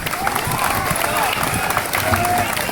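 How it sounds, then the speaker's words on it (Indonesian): Clapping from a crowd at a protest demonstration in Bali, a continuous rattle of hands with crowd noise and voices running beneath it. "Tepuk tangan"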